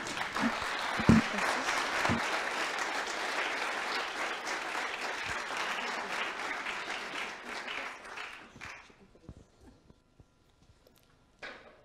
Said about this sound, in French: Je pense qu'on peut également applaudir nos intervenants.